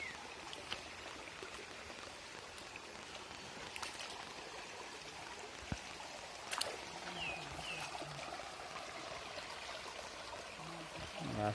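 A small stream of water flowing from a dam into shallow river rapids after rain, a faint, steady trickling wash that continues evenly throughout with no voices.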